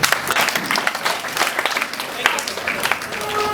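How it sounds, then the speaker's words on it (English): Audience applause for a panel of student debaters at a school debate, steady clapping throughout under a speaking voice. "A round of applause for all of them"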